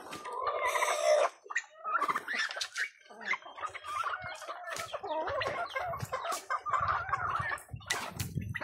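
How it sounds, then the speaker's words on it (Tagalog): Native chickens clucking and calling close by in a yard, a busy overlapping stream of clucks and squawky cries with a rooster-like call near the start, fairly loud and without talk. "may alaga tayong mga manok katulad ng native"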